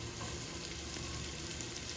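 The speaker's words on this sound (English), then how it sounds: "we're going to go ahead and put our onion in the pot," Chopped onion sizzles with bacon in a hot pot, a steady, dense crackle of frying that runs unbroken and fairly quiet throughout.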